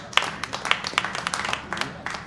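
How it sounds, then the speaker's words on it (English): A stand-up comedy crowd applauding, a lively burst of distinct sharp hand claps over a bed of crowd noise, fairly close and uneven in rhythm. "Get a round of applause for kids."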